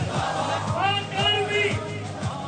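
A rally crowd in Lahore chants Pakistan Army slogans in rhythmic, repeated shouted phrases, a massed group of voices at moderate distance with no single speaker standing out.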